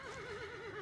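An annoyed horse lets out a loud, wavering neigh that fills the whole moment close by, with no talk over it.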